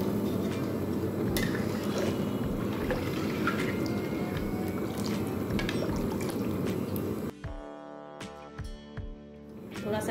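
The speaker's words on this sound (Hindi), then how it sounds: "एक गिलास और पानी डालेंगे।" A glass of water pours into a spicy Bihari fish curry masala in a pan, a steady loud splashing wash for about seven seconds before the flow stops and quieter drips and settling follow.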